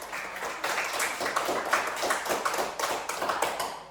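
Children in a classroom clap together, a brief burst of fairly soft, closely packed applause with a slightly rhythmic pulse lasting a few seconds.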